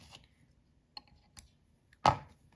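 Several sharp, quiet snips sound one at a time against near silence, ending in a louder crisp cut, like scissors trimming excess thread while tying a grasshopper fly.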